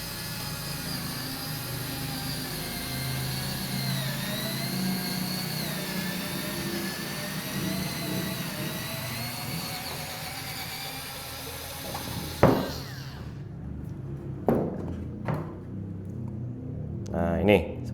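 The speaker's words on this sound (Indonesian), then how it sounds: "kita bor sekali lagi. Kita akan buat diameter yang lebih besar ya" A DongCheng DCPL04-5 cordless drill boring a larger hole through acrylic, a loud steady whine with shifting pitch that runs for about twelve seconds and then stops, followed by a few clunks and nearby talk.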